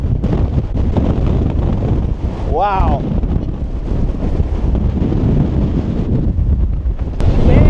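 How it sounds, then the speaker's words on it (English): Strong wind roars and buffets the microphone continuously on a mountain at Ecuador's volcanoes, loud and close, while a person briefly exclaims partway through. "Man, it's windy up here."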